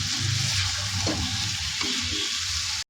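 Chicken kosha being stir-fried in a pan over lowered gas, a close, continuous sizzle with soft scraping stirs, cutting off abruptly at the end.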